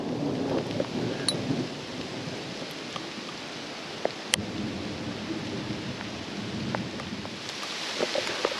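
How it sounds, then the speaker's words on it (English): Heavy rain pours down outdoors during a thunderstorm, heard from under a tree as hail begins. The hiss is dense and continuous, with scattered sharp ticks of drops striking nearby surfaces. "And trying to avoid the rain. I'm just standing under a tree right here. It's picking up again."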